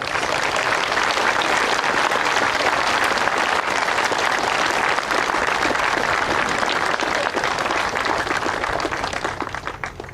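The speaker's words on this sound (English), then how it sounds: "I think it would be absolutely okay to give a round of applause to Student Council" An audience at a high school 9/11 memorial service claps steadily for about ten seconds, a dense, sustained wave of applause from a large crowd with no break.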